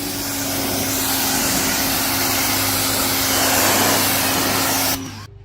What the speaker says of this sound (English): here's a demonstration as to how the power washer works